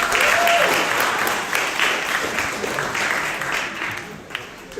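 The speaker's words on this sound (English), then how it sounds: "Clap it up for yourselves tonight, family." An audience at a gala breaks into dense, sustained applause that is loud at the start and gradually thins out, with faint voices mixed into the clapping.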